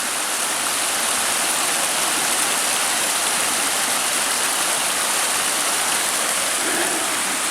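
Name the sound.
creek flowing far below the canal trail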